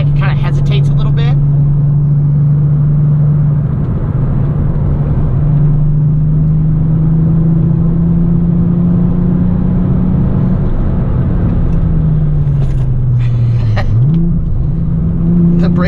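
A VR6-engined Volkswagen Golf GTI driving on the road, its steady low engine drone holding even then dipping and rising around a downshift, with talk over it throughout.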